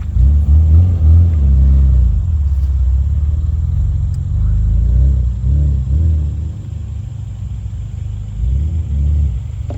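A car's engine rumbles loudly and close as it accelerates in second gear, a deep, steady drone that swells and eases a few times throughout.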